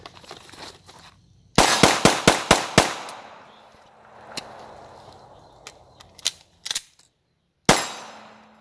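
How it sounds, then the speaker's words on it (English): A semi-automatic pistol is fired until empty, speed-reloaded, then fired once more: a rapid string of about six sharp, loud cracks, a pause with handling noises and a few clicks, then a single final shot. "we're gonna fire till we're dry, speed reload, and then one round"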